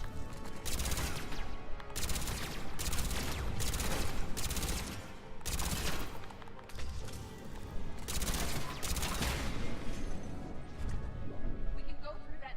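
Turrets firing in the Mass Effect 3 shooter, repeated loud bursts of rapid gunfire and crashing impacts separated by short pauses, with a voice speaking over the combat.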